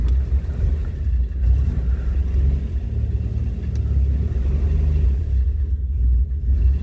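A 1968 Rover 2000 engine idles just after starting, a steady low rumble close by with slight rises in revs and no talking over it.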